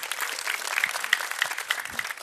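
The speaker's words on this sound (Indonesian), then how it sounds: "Kita beri tepuk tangan yang meriah untuk Yosua." An open-mic stand-up comedy crowd claps and whoops to welcome comedian Joshua to the stage, a lively, uneven burst of applause with sharp individual claps close by.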